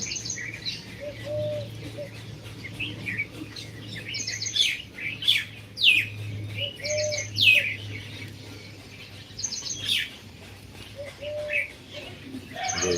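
Birds chirp and tweet in repeated bursts over a steady low hum, with a faint voice-like tone now and then in the background.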